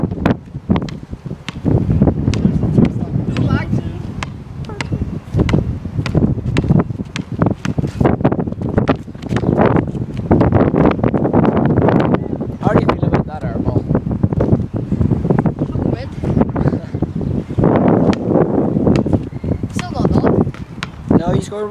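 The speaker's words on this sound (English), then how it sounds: "As you might hear, it's actually quite windy." Strong wind buffets the microphone in gusty roars throughout, with people talking under it outdoors during a one-on-one basketball game.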